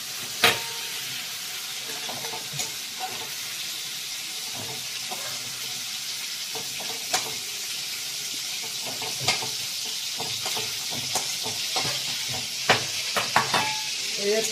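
Food frying in a pan for a coconut prawn dish, a continuous hissing sizzle with scattered utensil scrapes and taps throughout, close and fairly steady.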